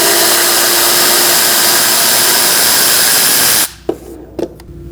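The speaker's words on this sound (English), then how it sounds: "Using a 10mm socket, we're going to remove this bolt and transfer this over to the valve cover." A valve cover bolt on a 2006-2011 Chevrolet HHR 2.4L L4 being spun out with a 10mm socket on a power driver, a loud steady whirring hiss close by that stops abruptly, followed by a few small metallic clicks.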